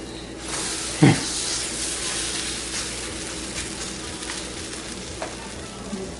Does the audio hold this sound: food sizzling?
yes